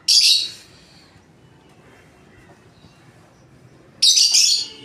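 Pet birds kept as a pair let out two loud, shrill bursts of squawking calls, one at the very start and another near the end, with a quiet stretch of faint background between them.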